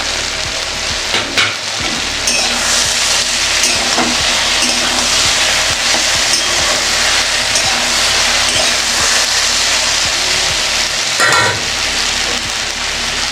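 Chopped chillies sizzle and crackle steadily in a hot pan, a loud, continuous frying hiss for the whole stretch with occasional stirring scrapes and no talk.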